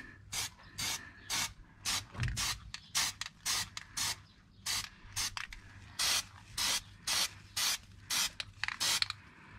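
Short hissing spray bursts repeat about twenty times in a steady on-off rhythm as a product is squirted onto cleaned bare steel of a junkyard e-brake system on a chopped 1951 Chevy, close and without talk.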